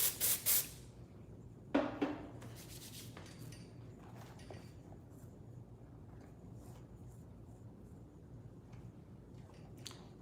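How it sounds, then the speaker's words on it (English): A few short hissing spray bursts as hair product is misted onto a hand, close and crisp with brief pauses between them, then a quiet room with soft handling noises. "I'm actually gonna spray a little bit onto my hand."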